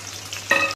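Onions fry in hot oil for a chicken kasha dish, a close, steady crackling sizzle that swells briefly louder before cutting off abruptly.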